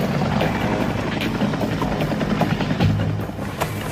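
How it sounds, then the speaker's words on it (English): Surveillance helicopter flying overhead, a loud continuous rotor thump and engine roar that holds steady and eases slightly toward the end. "Surveillance helicopters and jets have buzzed the expedition"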